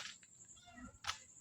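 A cat meows faintly at night near a cemetery, giving a couple of brief distant cries over quiet background noise.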